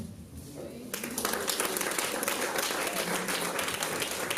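An audience at a parents' summit in Port Harcourt breaks into sustained applause after a talk, the clapping swelling after a second and continuing densely and steadily throughout.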